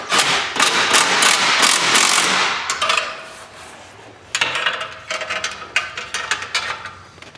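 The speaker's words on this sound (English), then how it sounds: "Our final step, just be tighten the bolts down." A socket wrench tightens the bolts on a diamond-plate front axle cover of an EZGO golf cart, with a fast continuous ratcheting burst up close, then a pause and a second run of choppier clicks.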